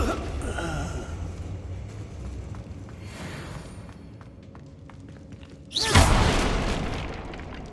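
A Confringo explosion spell in Hogwarts Legacy sets off a sudden loud boom that rumbles and fades over a low background of battle noise, with no speech.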